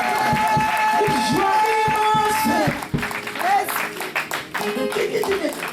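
A church congregation claps in rhythmic praise at an evangelistic service. Steady clapping runs under loud speech and singing, then becomes more scattered as the crowd keeps going.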